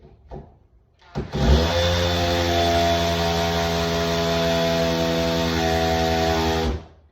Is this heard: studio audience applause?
no